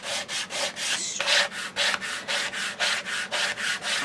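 A tool burnishes the glued paper cover of a small 6x6 handmade album, making close, rhythmic rubbing strokes, roughly a dozen even swishes in a steady back-and-forth pattern with no talk.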